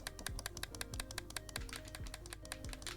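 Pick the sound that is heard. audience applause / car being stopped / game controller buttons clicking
game controller buttons clicking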